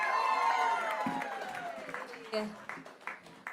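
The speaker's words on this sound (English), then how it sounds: "Have a big hand for Rachel Dunbar" Comedy festival audience cheering as comedian Rachel Dunbar is welcomed: whoops fade into a few sharp, uneven bursts of clapping.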